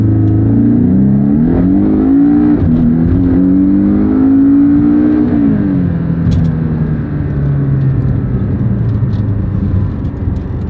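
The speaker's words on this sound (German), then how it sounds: "Wir machen einfach gar nichts, rollen einfach nur los, Vollgas und gucken, was bei rauskommt." A rear-wheel-drive car pulls away from a standstill at full throttle, its engine roaring loud and close as the pitch climbs steadily, drops with a gear change, then rises again under continuous road rumble.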